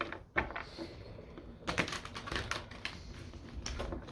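Soft, irregular clicks and riffling snaps of tarot cards being shuffled, close by and fairly quiet, with a few sharper bursts.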